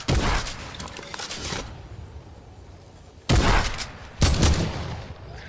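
Shotgun blasts in a first-person shooter video game, two loud, close bursts a second apart after an earlier stretch of heavy gunfire, with a quieter gap of background noise in between.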